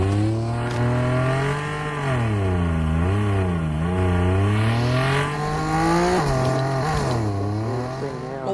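Loud, continuous Formula racing car engines in a racing video game roar and rev at Shanghai, pitch rising and falling as they accelerate and shift, with no talking over them.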